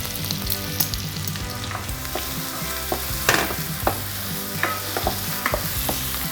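Grated garlic, ginger and onion sizzle steadily in a hot pan, with repeated scraping and clacking stirs over the constant frying hiss.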